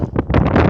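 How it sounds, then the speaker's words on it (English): Strong morning wind buffets an outdoor bus stop, gusting across the microphone in loud, uneven rushes that swell and ease over less than a second. "very windy this morning."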